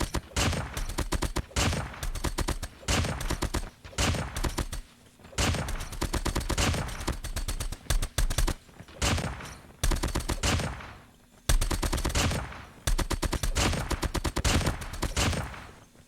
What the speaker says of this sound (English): because of the slow fire rate, it doesn't really kick too much, so it's quite easy to control